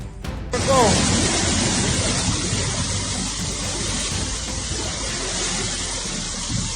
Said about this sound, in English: In Tenerife, Spain, waves can reach the height of a 4-story building during rough seas